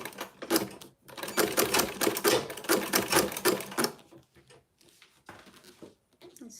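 Sewing machine stitching leather without a walking foot, a fast rhythmic run of close, loud clacking stitches that stops partway and leaves only a few faint taps.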